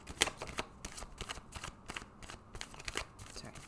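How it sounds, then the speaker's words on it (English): A deck of playing cards is shuffled close by in quick, irregular riffling bursts and soft snaps, fairly quiet, with no voices. "Shuffle some cards"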